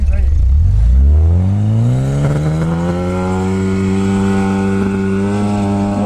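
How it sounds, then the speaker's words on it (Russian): An engine revs up hard, its pitch sweeping upward over a couple of seconds, then holds a loud, steady high drone. "Мощь двигателя, конечно."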